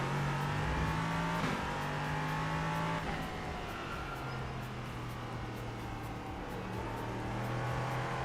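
Racing car engines in a racing video game, a loud, steady, high-revving drone with gear shifts and rising pitch as cars run close together, continuous throughout.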